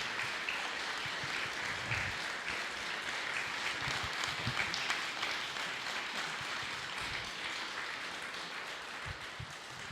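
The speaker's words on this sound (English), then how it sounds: "big round of applause for James" A crowd at a faith and football talk gives a big round of applause for guest James Morton, a sustained wash of many hands clapping at a steady level, filling the room without any speech.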